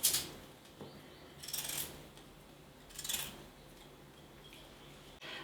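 A knife cutting through a russet potato, with a few soft slicing strokes and light taps on a board, close and quiet, no speech.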